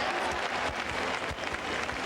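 Dense, steady applause from a large bullfight crowd in Portugal, close and continuous with scattered sharp claps rising above the wash of hands.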